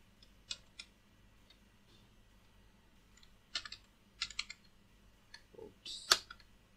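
Computer keyboard keys tapped while coding in Python, a few quiet scattered clicks and short clusters of presses against near silence, closing with a sharper final keystroke.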